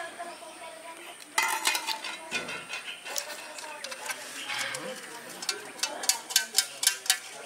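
Spiced tea with turmeric being stirred in a cup or pot, with light clinking and scraping strokes of a spoon repeating close by, no talk in between.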